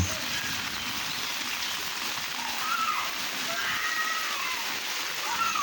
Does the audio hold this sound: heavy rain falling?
yes